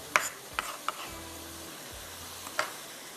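A spoon clatters against a pot while peas, potatoes, spring onion and coriander are stirred together, giving a few sharp scraping clicks over a soft background hiss.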